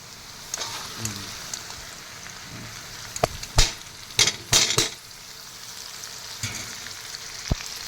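Shrimp paste (bagoong) frying in a pan, a steady soft sizzle with several sharp crackles and spatters bursting through, close and mostly alone.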